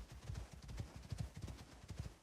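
Horse hooves clopping in the survival video game Icarus, a soft steady rhythm of hoofbeats, faint and continuous with no talk.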